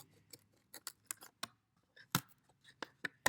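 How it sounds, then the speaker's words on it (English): Scissors snipping through thin balsa wood, a quiet, close series of crisp irregular clicks and cuts with short pauses between them. "You can cut the balsa wood with the scissors."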